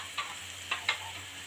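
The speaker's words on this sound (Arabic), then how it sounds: "نسيبها بقى ايه تتشوح كده ايه مع بعض كده" Onions and peppers sauté in a pan for an Egyptian potato and meat tray bake, with a soft sizzle broken by three short scraping stirs, quiet and close.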